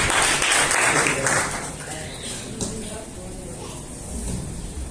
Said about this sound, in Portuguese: Receba ele com palmas, que alegre